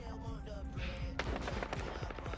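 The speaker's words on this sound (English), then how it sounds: "somebody's shooting at me" Rapid gunfire from the video game Call of Duty: Modern Warfare in a free-for-all match, a quick run of sharp repeated shots, faint and at a distance across a couple of seconds, with a voice speaking faintly underneath.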